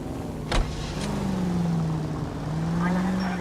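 A car in the L.A. Noire video game drives along with a steady engine drone that rises and dips slightly in pitch, with a couple of brief knocks near the start and no talking.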